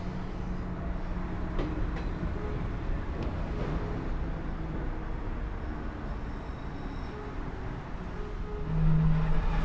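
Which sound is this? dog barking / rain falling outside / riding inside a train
riding inside a train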